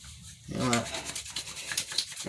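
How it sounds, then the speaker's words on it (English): Hands rub together spreading a glob of Murray's Edgewax pomade, a soft continuous friction swish that starts half a second in and persists at close range, with faint voice in the background. "rub your hands together, spread it out"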